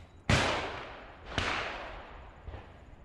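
Two shotgun blasts at clay targets during trap shooting, each a sharp crack with a rolling outdoor tail about a second apart, followed by a fainter distant report.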